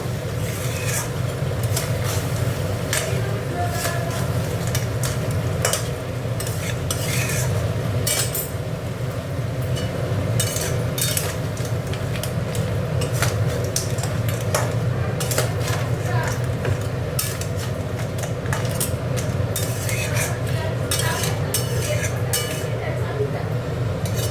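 Crab curry stir-fried with royal garam masala in a pan, with steady clinks and scrapes of a utensil against metal over a constant frying background, continuing for the whole stretch.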